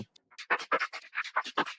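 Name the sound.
Future Garage drums through Evoke phase shifter plugin, 100% wet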